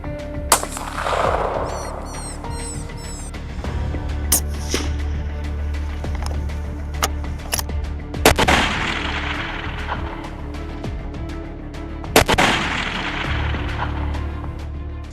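Rifle shots from a farmer hunting a wild boar at long range: several sharp, loud cracks a few seconds apart, each trailing into a rolling echo over a steady outdoor background.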